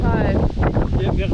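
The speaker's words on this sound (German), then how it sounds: "Und hier wird es irgendwie ist voll so eine Winddüse." A strong headwind buffets the microphone on the water while rowing a boat against the current, a loud, constant roaring rush with people talking over it.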